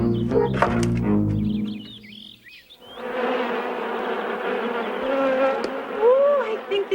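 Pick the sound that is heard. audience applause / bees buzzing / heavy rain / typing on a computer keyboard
bees buzzing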